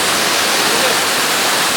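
Waterfall at Cachoeira do Roncador in Brazil, a steady, loud broadband roar of falling water filling the whole clip with no breaks.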